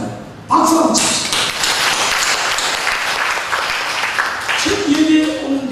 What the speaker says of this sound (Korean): 순간 박수 한번 칩시다.